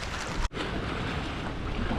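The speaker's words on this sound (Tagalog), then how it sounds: "tunog ng hampas ng dagat at tubig" Sea waves wash against the shore near a small mountain on Ibiza, a steady rushing surf mixed with wind buffeting the microphone, broken by one brief dropout.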